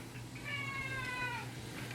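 A cat lets out one drawn-out meow indoors, fairly faint and rising then falling over a low steady background hum, with nobody speaking.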